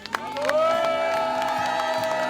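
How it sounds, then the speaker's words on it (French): A crowd cheers and whoops for a traditional pirogue sailing team at the Kunié Sailing Week regatta, a sustained roar with a whistle-like tone rising over it, steady and fairly loud throughout. "Son équipe est applaudie par un public conquis."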